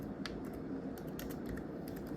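Steady rapid typing on a laptop keyboard during a Windows XP install, close-up, with quick light key clicks in an irregular rhythm over faint background hum.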